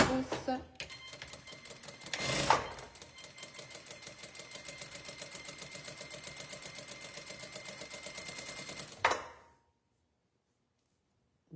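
A sewing machine stitches a shoulder seam with a half-inch seam allowance, running in a fast, even mechanical chatter for several seconds. The run is bracketed by a couple of louder clunks and then falls silent.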